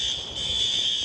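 Building fire alarm in Silver Lake ringing constantly: a piercing, steady electronic tone with a brief dip, loud and unbroken for about a second, no talking.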